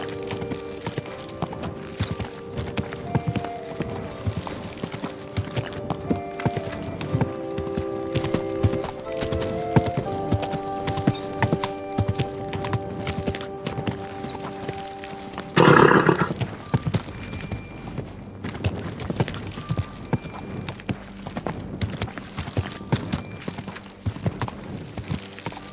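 Steady clip-clop of horse hooves in Kingdom Come: Deliverance 2, over a looping game musical backdrop, with a brief louder burst midway; no talking.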